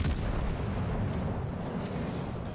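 Naval gunfire in the World of Warships Legends video game: a dense, continuous rumble of heavy cannon blasts and booms, loud and sustained with no distinct pauses, with no speech.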